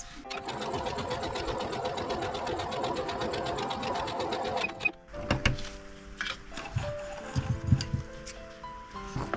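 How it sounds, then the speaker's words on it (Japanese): A sewing machine stitches patchwork fabric for a log-cabin style block in a rapid, even run of needle strokes for about five seconds, then stops, followed by handling clatter and a few short bursts. "次はこの線からこの線まで縫っていきます。"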